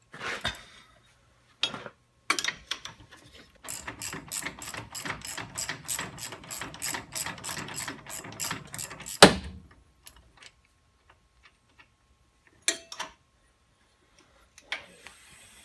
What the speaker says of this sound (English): he's going to take off the top 2 bolts of the A on